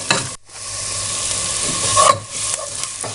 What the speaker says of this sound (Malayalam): സവോള നന്നായിട്ട് വഴറ്റണം.